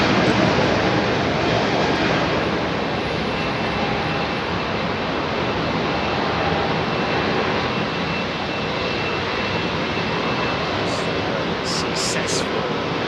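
Steady broadband roar of a Bombardier CS100 jet airliner at Heathrow Airport, loud and continuous throughout, with voices faintly talking over it.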